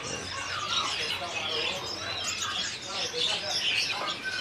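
Birds chirp at a bird seller's stall, a steady mix of high, overlapping tweets and calls close by, with faint voices in the background.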